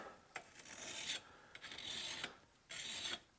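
A hand file rasps across a hardened steel chisel made from a crowbar, in three distinct strokes with short pauses between, close and moderately quiet, with no voices.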